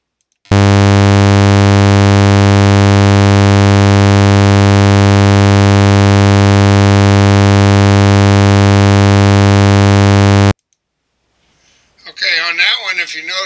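A 100 Hz sawtooth tone run through overdrive or fuzz distortion sounds as a loud, steady, harsh buzz for about ten seconds, then stops abruptly, followed by a short stretch of speech.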